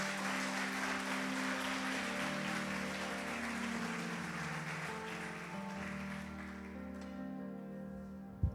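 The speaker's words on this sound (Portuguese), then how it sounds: "Você pode dar uma salva de palmas para o Senhor nessa noite?" Church congregation clapping for the Lord during an evening service, steady over sustained musical tones, then thinning and fading toward the end.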